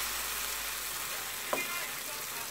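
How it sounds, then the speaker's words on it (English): Bean akara batter fries in hot oil with a steady, close, dense sizzling hiss, broken by one brief soft knock midway. "All right, let me fry."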